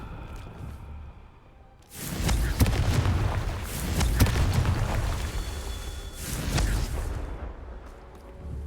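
Confringo blasting spell explosions in the Hogwarts Legacy video game: a loud, sustained burst of booming blasts and crackling debris, then a second shorter eruption a few seconds later.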